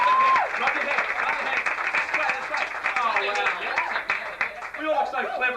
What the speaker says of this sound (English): How about we just try, just for a few seconds, clapping our hands and nodding our heads with great authority.